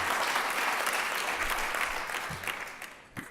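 Audience applause at the close of a conference talk, a dense steady wash of clapping that fades slightly toward the end.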